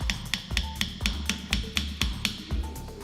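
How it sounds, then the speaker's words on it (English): Seals with plate girders being tapped into place on a utility-vehicle cylinder head with a plastic hammer: about a dozen short, sharp knocks in a fairly even rhythm, close and clear. "Seals with plate girders are carefully placed in position with slight knocks by a plastic hammer."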